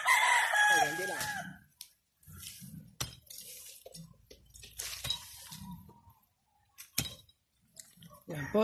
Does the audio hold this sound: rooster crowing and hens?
yes